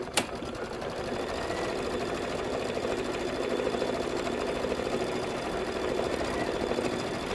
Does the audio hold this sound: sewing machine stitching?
yes